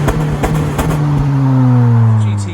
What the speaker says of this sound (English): Just for anyone that's worried or curious even about the exhaust note on the car